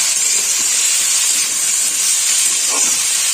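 Tomato tipped into potatoes frying in oil, a loud, close, continuous hiss of sizzling that holds steady throughout with no talking.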